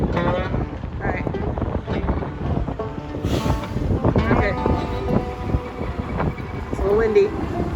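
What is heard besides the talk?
strong wind during a windstorm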